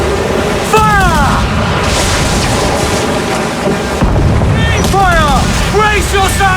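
Ship cannon fire during a naval battle in Assassin's Creed IV Black Flag: deep booms rolling over dense, roaring battle noise, with voices shouting throughout.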